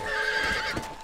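Horse neighing in the video game Red Dead Redemption: Undead Nightmare, a short, clear whinny with a wavering pitch, close and loud, with a faint hoof thud near the end.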